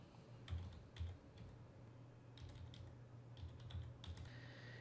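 Soft keystrokes tap out a web address on a computer keyboard, a faint, steady run of clicks over a low background hum.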